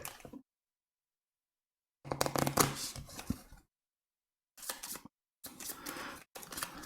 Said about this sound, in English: If you want to give these a good shuffle and pull out 4 area cards, Bradley.